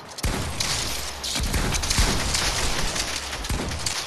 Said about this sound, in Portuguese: o tiro não pega no maluco